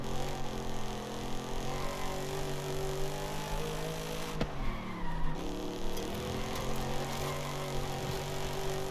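Car wheelspin in Forza Horizon 5, a continuous droning engine with tyre squeal and skidding, pitch dipping and recovering midway, steady and loud throughout with no talk.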